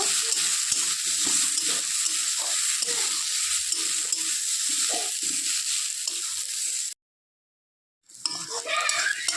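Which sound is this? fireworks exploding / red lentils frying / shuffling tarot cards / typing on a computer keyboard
red lentils frying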